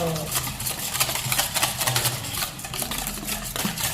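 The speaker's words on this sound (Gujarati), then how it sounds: "મિક્સ કરી દીધું બધાને બરાબર" Millet and chickpea flour batter stirred in a bowl, a steady run of soft scraping and mixing strokes with faint clinks, close and continuous.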